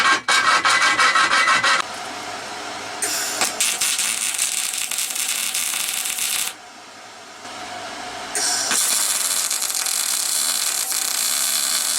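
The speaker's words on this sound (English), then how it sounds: "I'm going to take a file here and touch it up just a little bit." A metal file rasps back and forth over the edge of a freshly cut hole in a steel bumper, bursts of steady close scraping strokes separated by brief pauses, with no talking.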